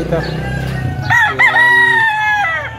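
A young rooster of a good breed, about a year old and offered for sale in Barangay Masaya, Rosario, Batangas, crows loudly and close by in a long drawn-out call. It follows brief clucking and rustling, with no one speaking.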